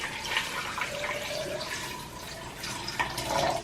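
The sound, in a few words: water poured into blender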